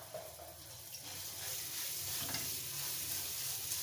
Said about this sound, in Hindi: ऑयल गर्म हो गया। अब 1 छोटी चम्मच मैं इसमें लहसुन की शामिल कर रही हूँ।